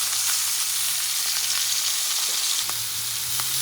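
A top round beef roast sears in a hot cast iron pan with a constant, loud sizzle and occasional faint pops and clicks. No one talks.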